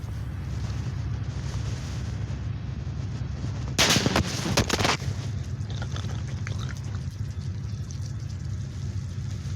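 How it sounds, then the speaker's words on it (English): A short burst of sharp gunshots fires in rapid succession in a Ukrainian village held by the Russian military, over a steady low rumble of background noise, then the scene returns to a constant hum. "His video ends with gunshots."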